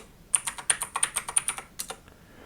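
Someone types a password on a computer keyboard: about a dozen quick, crisp key clicks in an uneven rhythm, close and fairly quiet, with no talking.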